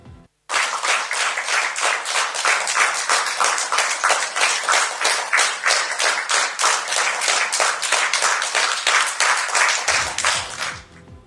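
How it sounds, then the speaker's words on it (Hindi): Sustained rhythmic applause from standing government ministers at a cabinet meeting, many hands clapping steadily in close unison for about ten seconds before stopping abruptly. "केंद्रीय मंत्रियों ने खड़े होकर प्रधानमंत्री मोदी के सम्मान में आज जबरदस्त तालियां बजाई"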